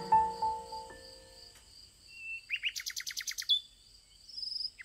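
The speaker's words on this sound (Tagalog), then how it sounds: "Nagsimulang humuni ang munting ibon" A small golden bird chirps in quick bright bursts, a rapid trill of repeated notes, alone against a quiet, faint background after a soft fading tone.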